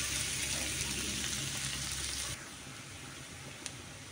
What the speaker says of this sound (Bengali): বেশ অনেকক্ষণ পেঁয়াজ আর রসুনগুলো তেলে ভাজলাম